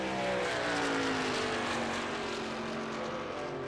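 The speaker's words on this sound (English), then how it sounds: "as he crosses the start-finish line in 19th spot" Race car engine in a Daytona stock car racing video game, a steady loud drone with a slowly falling pitch as the car passes the start-finish line, continuous throughout with no voices.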